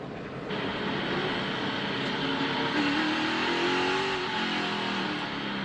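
NASCAR Truck Series pickup at Chicagoland revving hard on entry to pit road, a loud, sustained engine roar with rising and falling pitch across several seconds, no voices.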